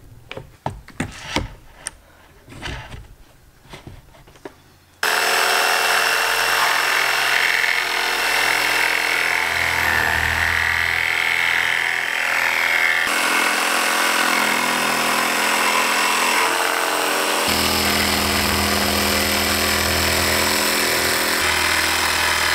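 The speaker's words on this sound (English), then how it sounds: "So I'm just gonna clamp this down, cut out a circle" A power tool cuts a circle out of a clamped wooden stool, first a few knocks and clamping sounds, then a loud, steady, close whine of the cut that keeps going without a break.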